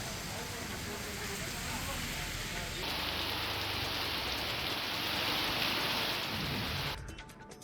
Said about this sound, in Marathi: आजही ढगाळ वातावरणासह पाऊस सुरू आहे।